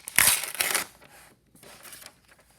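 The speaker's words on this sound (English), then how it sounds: "So let me rip this page out." A notebook page ripped out by hand, a loud sharp tearing burst followed by a softer second tear, then faint rustling as the paper comes free.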